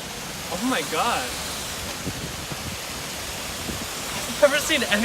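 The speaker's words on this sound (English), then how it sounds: "A waterfall." A waterfall gives off a constant broadband rush of falling water, with voices talking over it and a few brief louder bursts.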